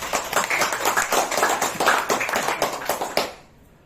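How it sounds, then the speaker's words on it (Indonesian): A small group claps briskly for a few seconds, close by, then the applause stops abruptly. "Tepuk tangan buat Pak Dani."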